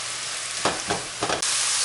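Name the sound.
ground meat with onions frying on medium-high heat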